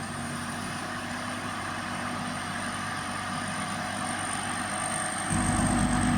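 A small combine harvester engine drones steadily while harvesting rice in a Phatthalung paddy, a constant mid-distance hum that thickens into a louder, deeper rumble near the end, with no talk.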